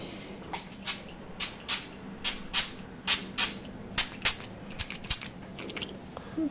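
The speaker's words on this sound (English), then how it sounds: "So I'm going to spray." A series of short, sharp spritzes from a spray bottle, roughly a dozen bursts at an uneven pace, close by in a quiet room.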